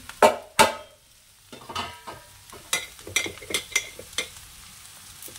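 A spatula scraping and clanking in a wok as cauliflower and rice are stirred together, sharp metallic strikes at irregular intervals over a faint sizzle, close and without speech.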